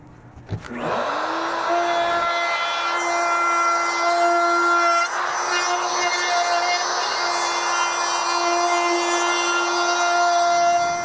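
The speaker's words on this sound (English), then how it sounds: "we're going to just route out the edge all the way around this tabletop" A router fitted with a round-over bit spins up with a rising whine, then rounds over the edge of a white oak RV tabletop in a loud, sustained, high-pitched cut that dips once midway.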